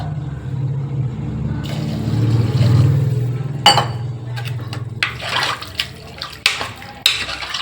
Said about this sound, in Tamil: இப்போ வந்து நமக்கு 2 டம்ளர் தண்ணி ஊற்றிக்கினேன்.